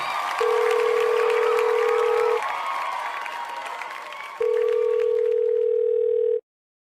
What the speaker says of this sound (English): Let's dial Percy Mulletman to see how he reacts